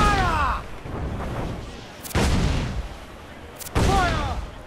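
Ship cannons from Assassin's Creed IV Black Flag boom in three heavy broadside blasts, each followed by a long rumbling decay, with a voice talking over the first and last shots.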